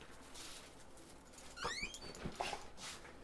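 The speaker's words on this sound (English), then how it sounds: "Dog came back." A dog in a horror video game gives faint, brief squeaky whimpers and yips with some pattering movement over a quiet ambient background.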